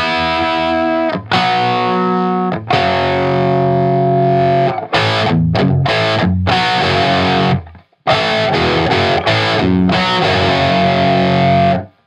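Heavy metal electric guitar riff played with down picks, loud and heavily distorted, sustained power chords broken by quick stabbing hits and brief gaps, no voices.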